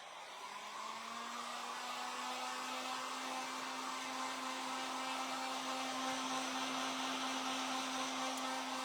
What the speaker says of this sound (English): now I'm going to dry that off